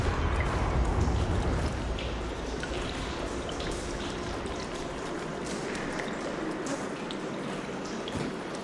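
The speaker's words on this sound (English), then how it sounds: "Aloy, I can hear water in the room again" Water flows in a room in the video game Horizon Forbidden West, a continuous rushing, pouring wash that stays steady and fairly loud throughout, with no speech over it.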